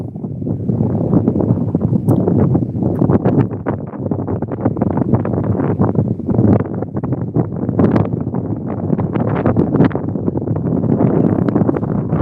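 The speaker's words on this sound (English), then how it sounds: "I didn't expect it to be so windy" Heavy, continuous buffeting of wind against the microphone beside the River Humber, rumbling and gusting loudly for the whole stretch.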